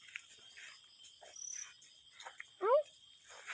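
Frogs call at night in southern Laos, with a faint insect-like chirring background, scattered soft croaks and one louder rising call near the end, close to the recorder.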